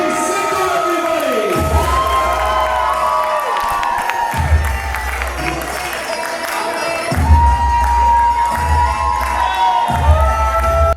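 A live podcast audience cheers, whoops and shouts in loud repeated waves, with children's voices in the mix, at the opening of a Punjabi podcast show.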